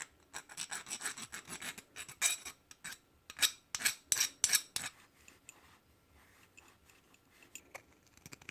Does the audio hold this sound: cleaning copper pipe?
yes